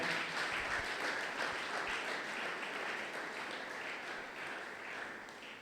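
A church congregation at a Sunday worship service applauds for the Lord, a steady, loud wash of clapping that carries on throughout.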